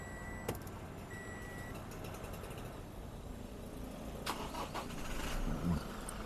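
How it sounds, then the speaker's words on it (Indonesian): A Toyota Venturer diesel automatic cranks and catches, its engine rising into a steady mid-pitched run after a brief start, heard up close with faint background noise. "Sambil itu saya mau hidupin mesin dulu."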